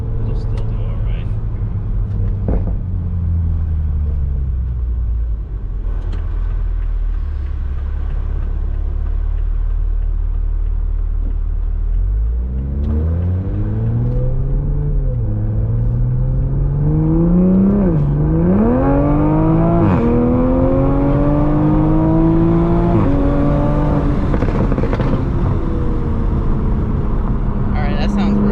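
A new Toyota Supra revs and accelerates from inside the cabin, with a deep rumbling idle that climbs through rising engine pitch and gear shifts, loud and close throughout.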